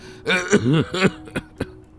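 A person nearby clears their throat and gives a few short coughs, ending with quieter single bursts.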